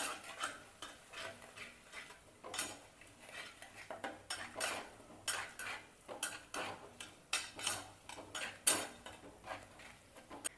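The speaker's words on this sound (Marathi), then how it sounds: "आता आपण त्याच्यात थोडी हळद घालणार आहोत काळा मसाला आता व्यवस्थित मिक्स करून घ्यायचं" Turmeric and black masala being stirred in a pan: a quiet, irregular run of metal spoon scrapes and clinks against the cookware, each stroke distinct, with no talk.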